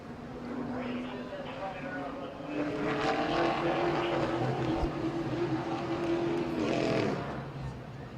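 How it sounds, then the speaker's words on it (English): A late model race car roars around the Midvale Speedway oval on its victory lap, the engine note swelling loud and near beneath an announcer's voice. "Bryant Smith will take his victory lap"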